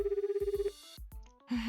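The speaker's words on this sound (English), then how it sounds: "picks up her phone, and dials our parents' number" A phone rings after a number is dialed in the visual novel 9-nine-: a steady pulsing ring tone, then a few short electronic tones and beeps, close and clear with no talking.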